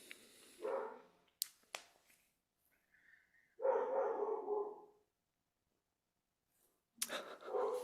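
Dogs barking in a few short bursts close by, with gaps of quiet between them and no talking over the barks.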